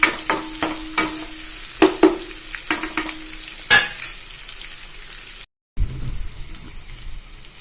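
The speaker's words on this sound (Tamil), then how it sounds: "நல்லா வதங்கட்டும் வெங்காயம்" Onions sauté in a pan, with a soft sizzle broken by repeated sharp scrapes and clinks of a spoon stirring them, close up and with no speech.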